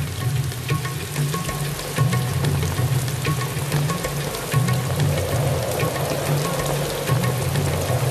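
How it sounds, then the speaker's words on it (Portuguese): Heavy monsoon rain falls in a dense, continuous patter with crackling drops, over a steady low drone. "As chuvas das monções começam no sul e movem-se para o norte."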